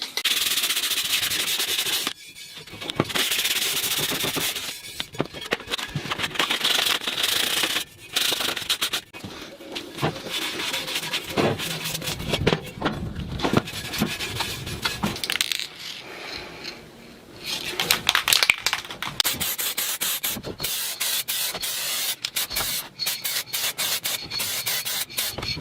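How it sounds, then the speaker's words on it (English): Hand sanding of a freshly spray-painted alloy wheel rim from a Mercedes-Benz W116, a steady close scraping rub that runs almost continuously with brief pauses and shifts in stroke. "So slightly sand it now, and then we'll finish it with"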